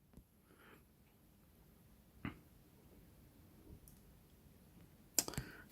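A computer mouse clicks on an on-screen button in a quiet room, a few faint sharp clicks spaced out, with one louder click near the end.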